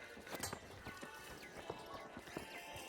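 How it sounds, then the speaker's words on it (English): Footsteps in the shooter game The Finals, a run of soft irregular thuds pattering across the clip at moderate volume amid game ambience, with no talk. "I'm hearing footsteps."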